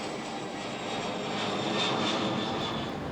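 Steady broadband roar of a passenger airplane's engines in flight, heard continuously from inside the cabin on a flight to Jeju, with no talk over it.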